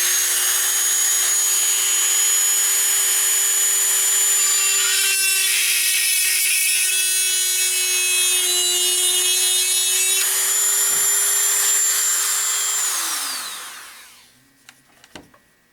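A small drill with a 3/32 bit and a changed collet bores out the hawse hole in a wooden ship model, giving a steady high-pitched motor whine with shifting grinding texture that winds down near the end.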